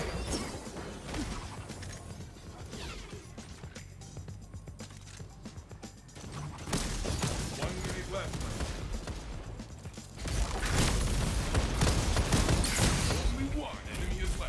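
Rapid gunfire from a weapon in a video game, dense bursts of shots and mechanical clatter that grow louder and busier toward the end, with voices talking over the action.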